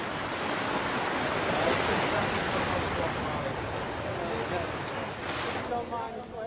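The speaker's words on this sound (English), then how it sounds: "with heavy seas pounding through the gap" Heavy Atlantic seas pounding through a rocky gap, a continuous loud surf roar with wind noise that swells and churns, cresting in a brief surge near the end.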